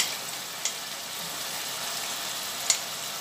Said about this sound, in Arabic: سيبهم ان هم يتشوحوا مع بعض